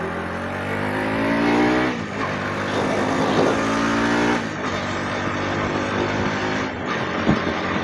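Bajaj Pulsar NS 200 motorcycle with a newly fitted slipper clutch being ridden, its engine revving and pulling up through the gears in steady, loud, close-up runs with no talk.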